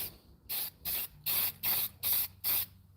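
Six quick, evenly spaced hissing bursts from a Rust-Oleum spray paint can, each a short sharp spray close to the can with quiet gaps between them.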